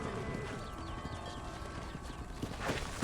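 Horse hooves clip-clop steadily in the Red Dead Redemption video game, a continuous rhythmic trot under a dense game soundscape with faint background noise.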